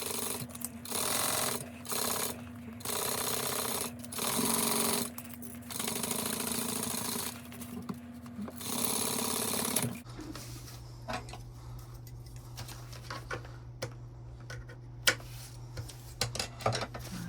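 Sewing machine stitching binding at a quarter-inch seam allowance, whirring in several bursts for about ten seconds before stopping, followed by quieter clicks and handling sounds.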